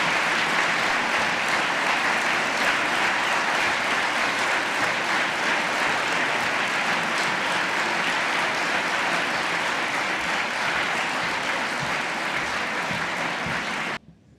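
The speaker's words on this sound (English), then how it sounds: "please can I ask Anna and Ellen to receive another round of applause" Sustained audience applause at a Swansea University Students' Union leadership event, a dense, steady wash of many hands clapping for about fourteen seconds before stopping abruptly.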